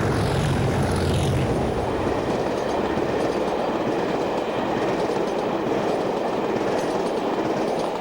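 Two British Rail Class 37 diesel locomotives haul a train, a loud continuous rumble of engines and wheels with some clickety-clack, steady throughout with no voices.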